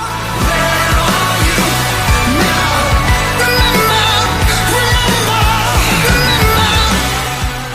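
Loud, dense rock music with a steady driving drum beat, distorted guitars and a voice buried in the mix, playing continuously throughout.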